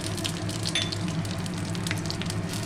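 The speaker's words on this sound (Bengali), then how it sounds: "তেজপাতা দিয়ে দিলাম ফোড়নে, 3টে শুকনো লঙ্কা, অল্প একটু 5 ফোড়ন, একটু কালো জিরে।" Bay leaf, three dried red chillies, panch phoron and nigella seeds frying in hot oil for a Bengali pui shak dish, a soft steady sizzle with faint crackles under a low hum.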